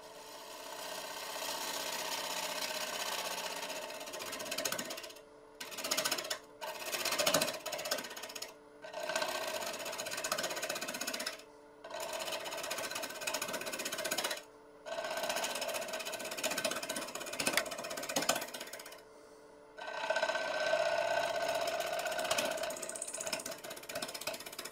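A wood lathe turns a cherry burl bowl, giving a continuous rough rubbing, rasping cut from the tool against the spinning wood, broken by a few short silent pauses. No one speaks.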